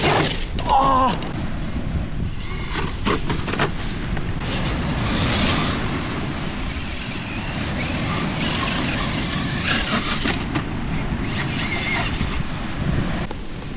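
Kyosho KC10 Land Cruiser RC car with a Hobbywing 3300KV motor driving outdoors, a steady whining motor and rumbling wheel noise throughout, with wind buffeting the microphone.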